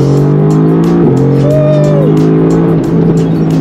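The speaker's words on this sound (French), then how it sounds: "On va faire une petite accélération" Mercedes-AMG GT R accelerating hard, a loud, close engine note climbing steadily through the gears, with a brief shift dip near the middle and no talk over it.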